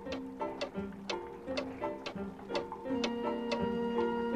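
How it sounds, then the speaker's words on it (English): Regular, evenly spaced ticking of many clocks with sharp clicks about twice a second, over a soft sustained musical background. "Look at all those clocks!"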